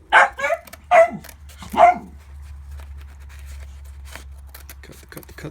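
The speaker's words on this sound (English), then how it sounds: "There's the doggies going crazy." Several dogs bark excitedly nearby, three loud bursts in quick succession over a steady low hum, followed by fainter scattered yips and rustling.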